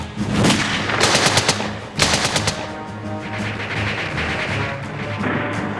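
Bursts of automatic fire from machine pistols rattle close and loud, with two rapid strings of shots followed by a rumbling, echoing background of battle.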